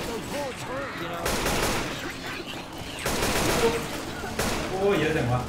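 Dense bursts of automatic gunfire in the zombie shooter Left 4 Dead 2, rapid volleys layered with game effects and background music, with players talking over the action.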